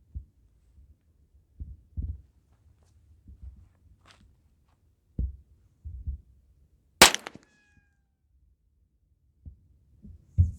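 Gunshots at an outdoor shooting range, one loud sharp crack standing out against a quiet background, with faint distant thumps and low bumps scattered before and after.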